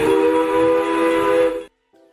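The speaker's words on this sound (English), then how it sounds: "let's listen to the train sounds that's going to give away" A train whistle in the game Upland blows one steady, loud tonal blast for about a second and a half, then cuts off, followed by a faint short echo-like tone.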